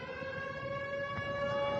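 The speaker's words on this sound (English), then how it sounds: "Sirens sounded in the Russian city of Belgorod during the day" An air-raid siren wails across the Russian city of Belgorod, holding a steady, sustained tone with rich harmonics over a low background rumble and no voices.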